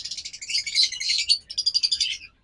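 Caged birds at a bird seller's shop chirp and tweet in a close, continuous run of bright high calls, with a brief pause midway before another burst of rapid repeated notes.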